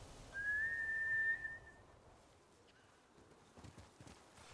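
In the video game Ghost of Tsushima, a clear rising whistle calls a horse, followed by faint, soft hoofbeats approaching at a walk across quiet ground.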